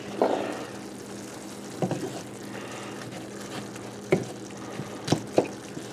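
Diced onion and minced garlic being stirred into hot dog chili in a pot, with a few soft scraping and clattering stir strokes over a low steady simmer hum, close and fairly quiet, no talking.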